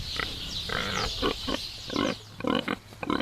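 Pigs on a farm grunt and snort in repeated short, rhythmic bursts, close and fairly loud, over a steady background hum with no talking.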